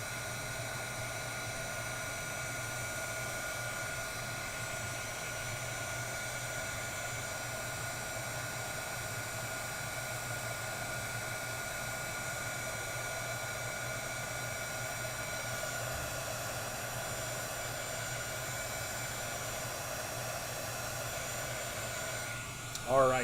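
Heat tool warming embossing powder on a handmade card, a steady close whooshing blower hum like a hair dryer that runs unbroken the whole time.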